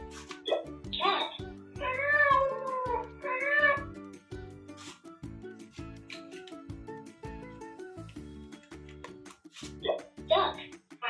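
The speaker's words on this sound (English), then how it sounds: "Cat." A cat meows repeatedly in short bursts, clear and close, with a voice speaking briefly among the calls.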